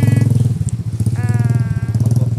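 A motorcycle engine runs steadily and close by during a trip between villages in Rampi, its low rumble constant throughout, with a brief higher whine partway through.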